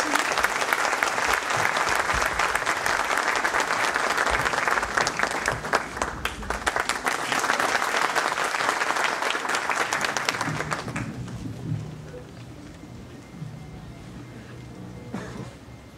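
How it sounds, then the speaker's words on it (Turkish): A concert audience at a Turkish classical music evening applauds the soloist, with loud, dense clapping for about eleven seconds that then drops sharply to a quieter room with scattered sounds. "Alkışlarımız solistimiz için."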